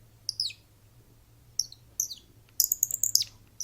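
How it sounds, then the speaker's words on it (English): A small bird sings outside a window in short bright chirps and twittering bursts, fairly close and clear over a quiet background with a faint low hum. "It is only a little bird singing outside my window."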